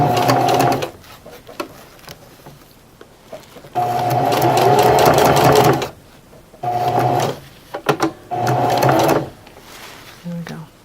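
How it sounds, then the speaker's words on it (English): A sewing machine stitches a show ribbon garment bag in several loud, steady whirring runs with brief pauses between them. A person talks over parts of it. "I will be sewing over it again. Back stitch in."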